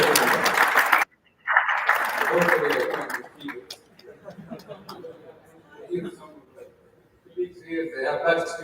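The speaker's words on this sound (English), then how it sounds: "I'd like to give him a big round of applause for him." Audience applause at a corporate summit, a burst of clapping at the start that breaks off briefly, resumes, then thins out as a speaker's voice comes in and carries on over scattered remaining claps.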